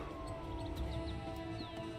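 A steady wailing siren in Project Zomboid, a rising and falling tone sustained across the whole stretch, moderately loud with no talk over it.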